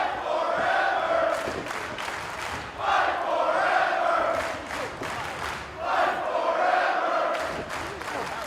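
A wrestling crowd at a Warrior Wrestling event cheers and roars in repeated surging waves as fans rise to their feet, loud and sustained throughout.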